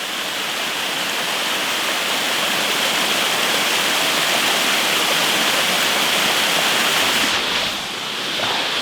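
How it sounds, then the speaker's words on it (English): A hidden waterfall in the woods beside an old church roars as a loud, steady wash of falling water, close and unbroken, with no voices. "waterfall just lost in the woods, man, that not many people know about."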